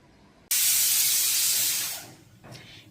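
Kidney beans (rajma) boil as a loud burst of steam hisses out suddenly, holds steady for about a second and a half, then fades, followed by a short, softer second puff.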